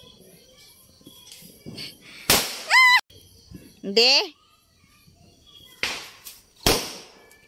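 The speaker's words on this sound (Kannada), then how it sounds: "ಪಟಾಕಿ ಸೌಂಡ್ ಇತ್ತು" Diwali firecrackers go off outdoors in a few sharp, loud bangs, some with whistling or crackling trails, spread out between quieter stretches, while children and others talk nearby.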